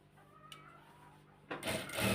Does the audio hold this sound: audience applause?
no